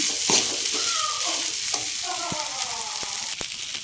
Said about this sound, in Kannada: ಈ ಥರ ಫ್ರೈ ಮಾಡ್ಕೊತಾನೆ ಇರಬೇಕು